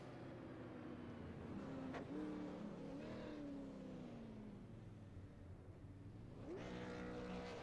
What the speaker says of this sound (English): Gonna do his burnouts there